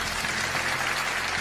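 An audience at a sermon applauds in a steady, dense wash of clapping that stays even and fairly loud throughout.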